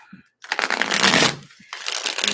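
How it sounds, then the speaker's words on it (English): A deck of playing cards shuffled at a table during a reading, with two quick riffling bursts of crisp flapping cards separated by a brief pause, close and clear. "Okay, one more shuffle."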